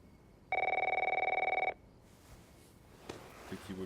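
A landline telephone in a bedroom gives one loud, rapid trilling ring burst lasting about a second, then stops, leaving quiet room tone with faint movement.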